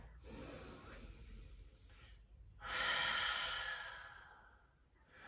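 During yoga practice, a slow, deep cleansing breath is taken close to the mic: a long audible inhale, a brief pause, then a fuller, louder sighing exhale that fades out.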